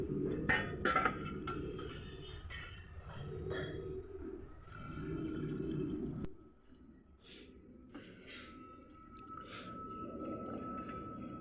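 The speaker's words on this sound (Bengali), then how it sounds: "এখন পরিষ্কার জল দিয়ে আবার ধুয়ে নেব" Cauliflower pieces being rinsed in clean water for pakoras, a steady close sloshing and splashing of water with a sharper burst near the start, continuing without talk.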